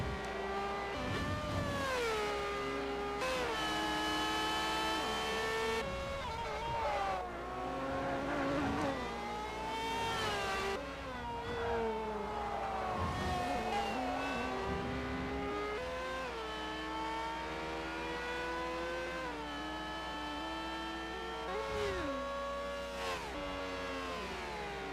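Race cars in Forza, including a Ferrari, accelerate through a German Grand Prix race with continuous high-pitched engine whine that climbs and drops through gear changes. Several cars overlap close up, with no speech.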